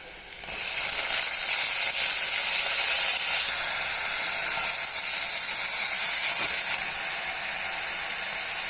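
Onion with a pinch of asafoetida and chopped tomato fry for dal khichdi, giving a loud, steady hissing sizzle that carries on unbroken, with no talking.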